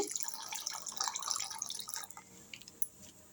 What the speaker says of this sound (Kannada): ಚೂರು ನೀರು ಹಾಕ್ಕೊಳ್ತೀನಿ